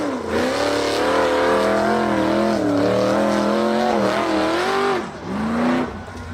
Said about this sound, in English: The green buggy accelerated hard and charged up a dirt hill.